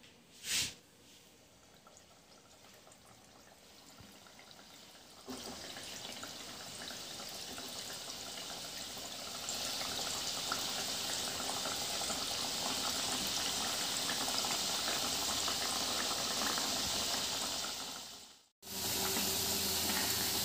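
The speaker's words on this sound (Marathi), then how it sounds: "आता आपण एक एक करून तळून घेऊया." Balushahi frying one by one in hot oil over a medium-low flame, a steady close sizzling hiss that swells louder after a splash and continues, with a brief cut near the end and no talk.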